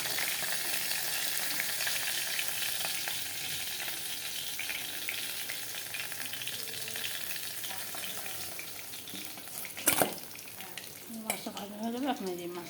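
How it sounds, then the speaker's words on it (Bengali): Pabda fish fry in hot oil for a wedding-style spicy curry, giving a continuous close sizzle with light stirring, a sharp utensil clink near the end and a brief voice after it. "এই যে মাছ ভাজা হচ্ছে"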